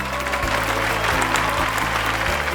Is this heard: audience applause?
yes